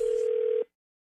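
A single steady telephone tone sounds at the start of a radio prank call, holding clear and even for about half a second before cutting off abruptly into silence.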